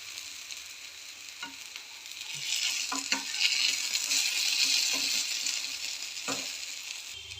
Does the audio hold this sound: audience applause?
no